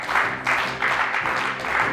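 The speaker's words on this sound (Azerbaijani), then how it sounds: "Alqışlayaq Səminəni." Audience applause for a singer on a television show, a dense burst of clapping in rolling waves, fairly loud and close, with no talk over it.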